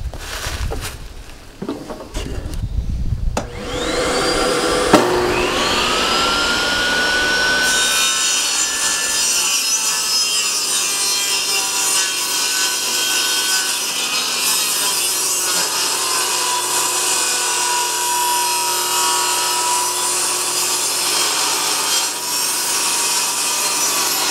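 A saw tears through wood, starting with rough strokes and settling into a loud, continuous whining cut that runs steadily throughout.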